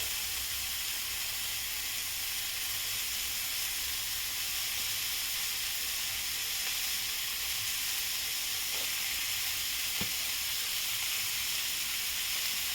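Eggs frying on a high flame with onion and tomato that have already been sautéed soft, making a steady, loud, unbroken sizzle with a couple of faint clicks and no voices.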